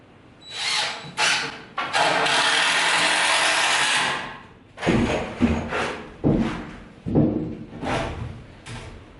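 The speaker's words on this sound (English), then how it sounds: "so we're just going to run these in with screws" Screws driven into bathroom wall framing with a power driver: short whirring bursts, one long sustained run, then a string of quick rising spins with clunks between them, close and loud.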